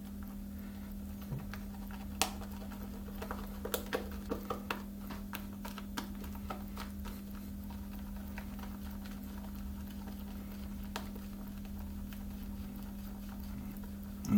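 A shaving brush whips shaving cream into lather, giving soft irregular ticking and patter over a steady low hum, with the sharper flicks bunched toward the start and the rest fading to a faint continuous background.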